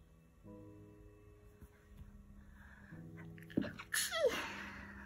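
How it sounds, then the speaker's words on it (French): A single sharp human sneeze near the end, close and abrupt, during a quiet diamond painting session with faint background hum and tones before it. "j'ai éternué"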